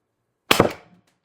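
A TR50 Torpedo air gun fires a 12.7mm ball bearing: one sharp, loud crack after a moment of silence, fading quickly.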